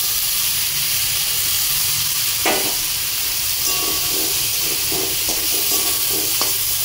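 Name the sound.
potatoes sizzling as they are added to the pan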